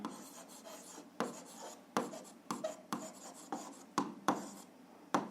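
A pen scratches across paper close up in short strokes, with about a dozen quick, distinct scribbles in an uneven rhythm and no one speaking.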